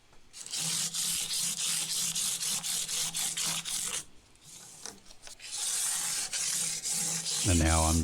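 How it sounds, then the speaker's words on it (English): Sandpaper rubbed by hand across the new frets of a vintage Hohner Shark fin guitar, with long steady scratchy strokes that run in a row, pause briefly, then resume close and loud. "now I'm just basically running some sandpaper across with my fingers to get any of the file marks out that I can"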